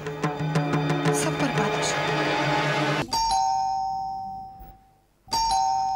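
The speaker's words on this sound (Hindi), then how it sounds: "ये कौन है जो बार बार घंटी बजाया जा रहा है?" An electronic doorbell chimes several times in a Hindi TV serial, its ringing tones sounding over background music and then repeating after a brief pause.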